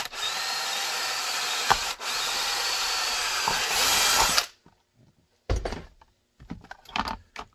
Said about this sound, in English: Drill your retention hole.